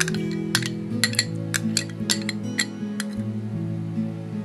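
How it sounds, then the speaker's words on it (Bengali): A spoon clinks against a bowl while starter yogurt is stirred into milk for homemade yogurt, giving repeated sharp metallic taps at an irregular rhythm over a steady low hum, close and moderately loud. "এটাকে খুব ভালোভাবে মেশাতে হবে।"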